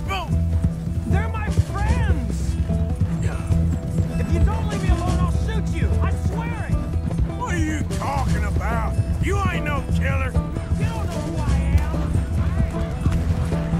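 Horse hooves clip-clop steadily in Red Dead Redemption 2, with neighs and game sound underneath, while someone talks excitedly over most of it.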